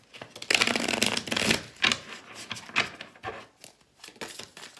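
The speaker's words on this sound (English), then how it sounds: "let me just shuffle my cards." Shiny, slippery tarot cards being shuffled by hand up close, a run of quick papery riffles and slaps in several bursts with brief pauses between, no talking.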